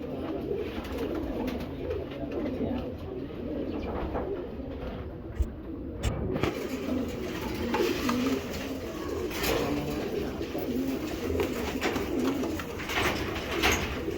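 Racing pigeons coo steadily in a loft, a dense chorus of soft, overlapping calls running throughout at close range, with no talk over them.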